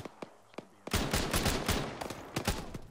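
Video game gunfire: a few sparse, quiet single shots, then a dense burst of rapid automatic fire that rattles on continuously, loud and close.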